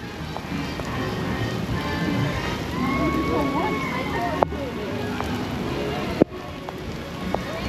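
Heavy rain pours outside at Hollywood Studios on a stormy day, a steady hiss of falling water with a couple of sharp clicks and faint background voices.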